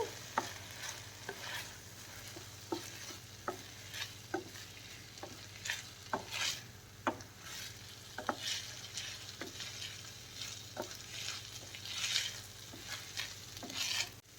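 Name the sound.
stirring cooked rice into vegetables in a pan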